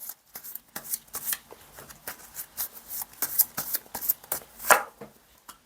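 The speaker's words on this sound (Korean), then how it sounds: "그럼 마지막으로 우리 2번님 조언 카드 한 장 뽑아볼게요" Tarot cards shuffled and drawn for a reading, a run of quick, crisp riffles and slaps with a few sharper snaps, close and fairly loud, alone with no talking.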